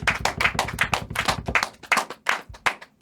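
Applause for a sound crew at a Christmas special show: a few pairs of hands clap in distinct, uneven bursts, close and fairly loud, tapering into sparser separate claps toward the end.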